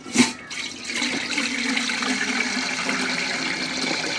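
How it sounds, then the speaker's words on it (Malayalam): A steady rush of water pours into a vessel for cooking rice, starting with a small splash and continuing evenly at close range. "അരി റെഡിയാക്കാൻ വേണ്ടിയുള്ള വെള്ളം ഒഴിക്കാം"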